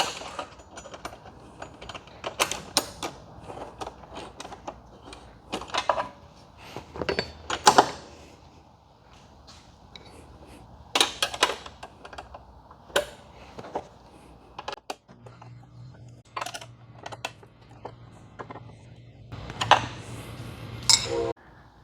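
Bolts being tightened on a Can-Am Ryker luggage rack mount, with scattered clicks, metallic clinks and tool knocks in irregular bursts, fairly close, separated by quieter stretches and some low rumble.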